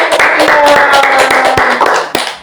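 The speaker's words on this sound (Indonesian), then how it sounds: "Oke, tepuk tangan." A group claps loudly in a fairly rhythmic pattern, with sharp individual claps standing out near the end.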